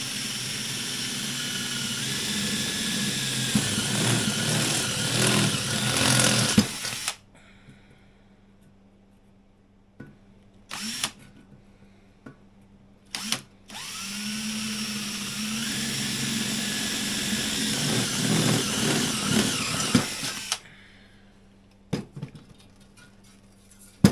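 A half-inch step drill bit bores holes through the motor plate of a 1977 Polaris snowmobile, making two long, loud, whining bursts of drilling separated by a quiet pause with a few brief blips.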